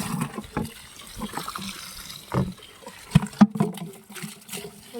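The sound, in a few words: water being poured out on a farm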